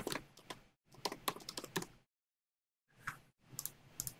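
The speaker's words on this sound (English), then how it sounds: "so I can simply start typing." Quick bursts of computer keyboard typing, close and clear, pausing briefly in the middle before a final flurry of keystrokes.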